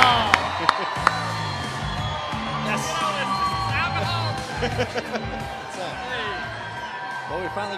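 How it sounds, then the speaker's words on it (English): Live crowd at a NASCAR after-show podcast taping cheers and whoops for an arriving guest, a dense, continuous roar of voices with scattered shouts and whistles throughout, loud and close. "this crowd might be about to get really loud here in just a second"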